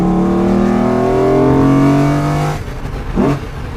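Vector M12 with its 5.7-liter V12 revs loudly, its rising engine note climbing steadily for about two and a half seconds before dropping off, followed by a brief second throttle blip.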